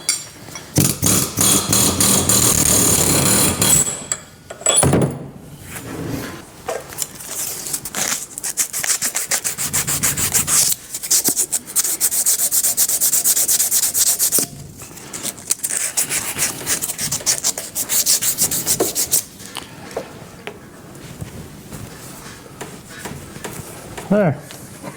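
A grinding cut through a steel bearing race makes harsh, rasping bursts that start and stop in long passes, loud and close, with brief pauses between cuts and a voice speaking at times.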